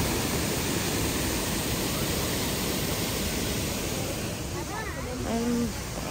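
A waterfall in Germany's Black Forest roars as a dense, unbroken rush of falling water, loud and close, with a voice speaking briefly beneath it near the end.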